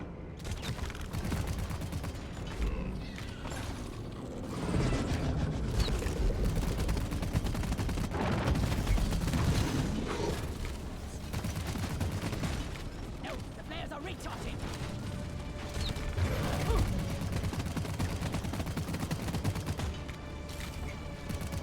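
Rapid gunfire from a scout's weapon in Deep Rock Galactic rattles on steadily as enemies are shot, dense bursts blending with mechanical clanks and creaks in a busy game soundscape.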